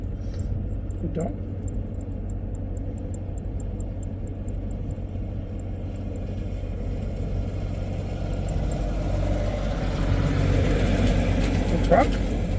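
Loaded gravel trucks idle and run together with a steady low engine rumble that swells slightly toward the end, with a dog and people talking faintly nearby.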